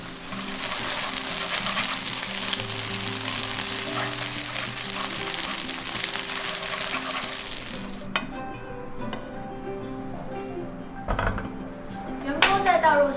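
Rice noodles sizzle loudly in a hot wok for a sustained stretch of steady frying while chopsticks toss them for a vegan Hong Kong-style stir-fry, followed by quieter scraping and a few sharp clinks against the wok.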